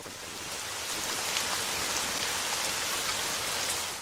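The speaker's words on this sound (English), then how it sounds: "yeah, it was rain sounds" Steady rain falls in a dense hiss of drops hitting a surface, even and continuous throughout with no voices.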